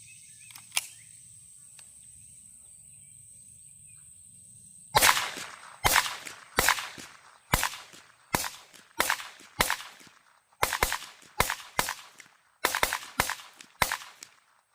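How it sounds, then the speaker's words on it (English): A suppressed Springfield Armory Kuna firing round after round, heard from downrange at the target: a quiet opening, then about fourteen sharp cracks in quick irregular succession, each with a short decay. "I'll set the gun or the camera down there at the target, and we'll see what it sounds like downrange."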